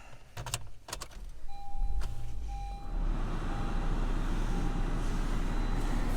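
Keys jingle before a 2021 Honda Civic LX engine cranks. A brief starter whine follows, then the engine catches and settles into a steady, close idle.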